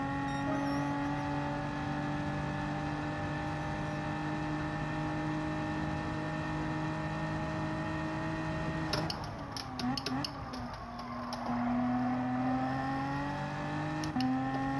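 Race car engine in Gran Turismo 7, a loud sustained high-revving whine with strong tonal harmonics, briefly broken by a clattering gear-change burst midway before the drone resumes at a steady pitch.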